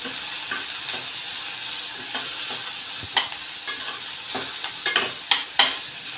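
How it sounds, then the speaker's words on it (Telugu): Ridge gourd pieces fry in a hot pan while a utensil stirs and scrapes them, with a steady sizzle underneath and sharper clacks and scrapes that grow more frequent toward the end. "ఇప్పుడు దీని దగ్గరికి కొంచెం వేయించుకోవాలి బాగానే ఒక ఐదు నిమిషాల పాటు దగ్గరికి మగ్గినంత వరకు వేయించుకోవాలి"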